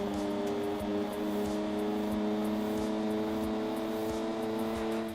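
Turbocharged racing car engine in the video game Gran Turismo 2, a loud steady exhaust drone held at high revs throughout, with a faint repeated ticking beneath and no talking.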